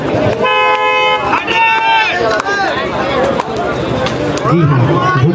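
Hooter sounding at an outdoor kabaddi match as play restarts for a do-or-die raid, several sustained tonal blasts over a noisy crowd, with a commentator talking throughout.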